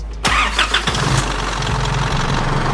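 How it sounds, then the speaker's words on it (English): A car engine cranks briefly and catches after a new air-con compressor and drier have been fitted, then settles into a steady idle, loud and close with no talking. "start the vehicle"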